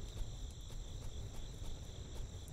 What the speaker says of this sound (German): Hört ihr die Grillen? Klingt ja toll